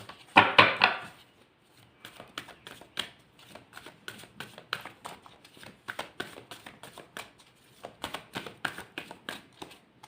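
Tarot cards being shuffled and drawn, a loud riffle burst near the start followed by a long run of quick, crisp card slaps and flicks up close.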